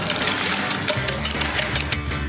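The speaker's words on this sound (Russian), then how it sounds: "Заливаем воды, заливаем так продолжительно, чтобы было слышно, что это не что-то другое," Water poured steadily into a container in a cooking-contest kitchen: a continuous splashing, bubbling rush lasting the whole moment, close and fairly loud, with no voices.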